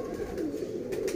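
Pigeons cooing in a home pigeon loft kept for pigeon racing: a steady, low, throaty coo that rolls on without a break for a little over a second, close by and moderately loud, with faint rustle above it and no talk.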